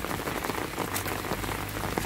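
Heavy rain pours steadily onto a flooded village garden in Turkey, a dense, close, continuous hiss of drops striking wet ground and surfaces with no voices.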